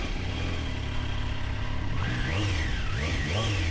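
A 2025 Triumph Trident 660 motorcycle with ride-by-wire throttle revs steadily from a close position, its engine note climbing and swooping through several quick rises and falls in the second half.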